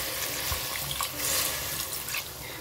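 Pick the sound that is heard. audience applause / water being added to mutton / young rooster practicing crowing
water being added to mutton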